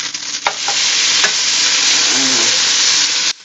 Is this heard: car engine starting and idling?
no